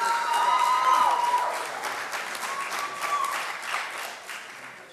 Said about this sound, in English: give another round of applause for our best speaker